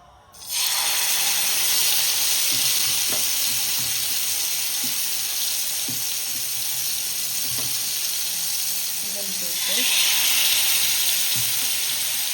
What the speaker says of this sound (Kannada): ಬಿಸಿಯಾಗಿದೆ ತವ ಸೊ ಒಂದೊಂದು ಪೀಸ್ ಇಡುವ